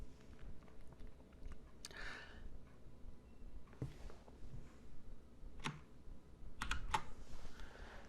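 An SQL query is typed on a computer keyboard: scattered, uneven key clicks and taps, a few of them sharp and close, over a quiet room with no speech.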